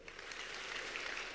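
Faint, steady applause from a crowd at a PiS election campaign rally, a dense patter of clapping heard from a distance for a brief moment.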